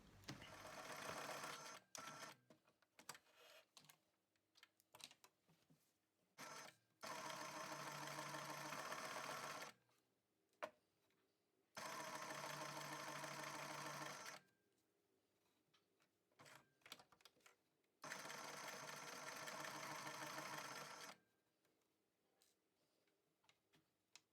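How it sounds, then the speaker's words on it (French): A sewing machine stitches along the handles of a foldable fabric tote bag in three long, steady runs, separated by pauses filled with softer clicks and handling noises. "on va venir coudre tout le long"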